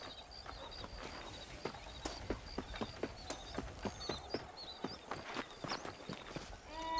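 Horse hooves clip-clop in a steady walking rhythm through the Red Dead Redemption video game, clear and close over a soft ambient bed with faint chirps.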